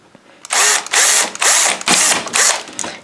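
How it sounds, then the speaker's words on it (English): Small drill boring holes into a headlight housing for micro LEDs, five loud close high-pitched whirring bursts separated by short pauses, no talking. "hold it steady, and then I just go ahead and drill"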